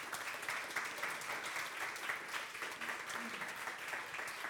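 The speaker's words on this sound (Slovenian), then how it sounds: "Hvala lepa gostom, en aplavz" Steady, dense audience applause fills the room for guests at a live studio recording of a children's show, holding an even level throughout with no talk over it.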